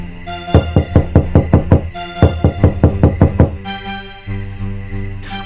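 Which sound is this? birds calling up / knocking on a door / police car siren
knocking on a door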